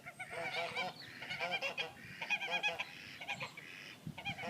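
Geese honking in a field, repeated loud overlapping honks in quick bursts with short pauses between them.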